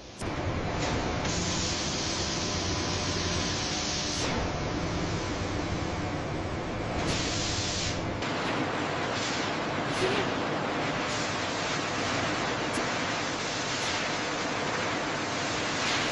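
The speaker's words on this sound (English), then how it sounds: "the natural textures are preserved through a series of steam and spray treatments" A continuous loud hiss of steam and spray treatment on snakeskin in a leather factory runs throughout, with a few brief bursts where the rushing noise swells and cuts.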